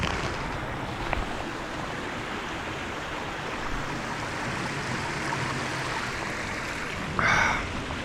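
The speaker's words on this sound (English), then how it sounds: "I just filled up some water at this stream." Mountain stream in the North Cascades flows with a steady, soft rushing wash, continuous and moderately distant, with a brief louder rustle near the end and no talking.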